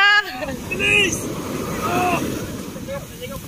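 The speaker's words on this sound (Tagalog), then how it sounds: "Ayan, laki ng alon! Ayan!" Big ocean waves surge around a small fishing boat, a broad roar of surf and wind buffeting the microphone, with excited shouting voices over the water.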